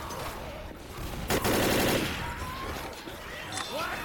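Shotgun blasts in the zombie shooter Left 4 Dead, a dense burst of gunfire in the middle of the clip with scattered shots around it, over game noise and voices talking.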